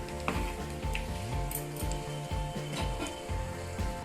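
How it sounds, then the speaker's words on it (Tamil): Cashew nuts fry in a pan with a steady, soft sizzle. Quiet clicks of a utensil scraping the pan repeat over the sizzle at close range, and no one speaks. "இப்போ cashew nuts ஃப்ரை ஆகுது"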